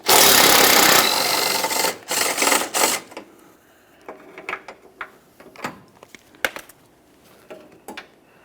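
A ratchet on a long extension working a headlight bracket bolt on a 2012-2015 Honda Civic, starting with a few seconds of fast continuous ratcheting, then slower scattered clicks and taps as the bolt comes free.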